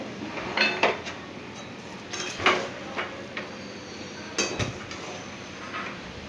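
Veg chowmein noodles are tipped from a pan into a serving dish, giving a series of light clinks and metallic scrapes as utensil and cookware knock together, fairly quiet and with no talk.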